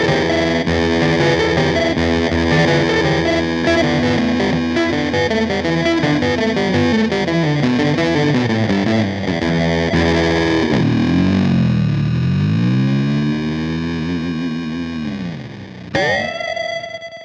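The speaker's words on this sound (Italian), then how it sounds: "Questo è un Beat Crusher." A Hotone Xtomp pedal on its Beat Crusher setting gives an electric guitar a gritty, lo-fi bit-crushed distortion, playing chords and a run of notes, then a warbling bend, a fading tail and a final sharp struck chord.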